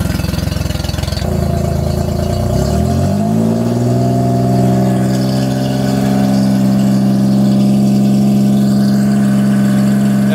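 A Yamaha 40hp four-stroke outboard engine, carburetors under adjustment, catches and settles into a steady loud running hum, then holds a higher, even tone as the throttle is raised, close by with no talk.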